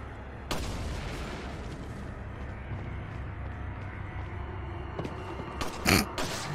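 Explosives are shot in Resident Evil 4, sharp gunshot cracks and blasts punctuating a rumbling game background, with one early shot and a cluster of louder bangs near the end.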